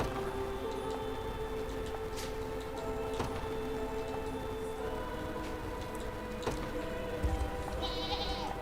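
Several bleats from goats in the video game Unicorn Overlord sound out at intervals over a constant hum of game music and ambience, each call brief and moderately loud, with a small chime near the end.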